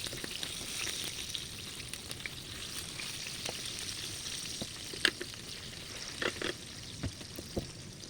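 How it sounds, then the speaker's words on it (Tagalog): Fish frying in oil in a clay pot, a steady quiet sizzle with scattered sharp pops and crackles, close by and without speech. "nilagay ko na rin dito yung isda at piprito ko nga ito"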